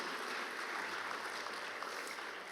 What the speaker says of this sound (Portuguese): Então eu gostaria que você aplaudisse ao Senhor nesse momento